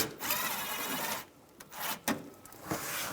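A 7mm socket driving out a bolt beneath the bumper of a 2008-2017 Buick Enclave, a close, steady whirring ratchet-like run for about a second, then short bursts of turning after brief pauses.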